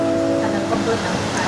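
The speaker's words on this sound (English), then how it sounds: "the sound of the waves." Ocean waves wash onto a Thai island beach in a steady, close, unbroken rush of surf.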